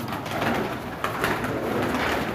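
Pigeons at a Sialkot pigeon seller's loft, including crossbred flying birds, giving soft, close, repeated cooing with light rustling, and no one speaking.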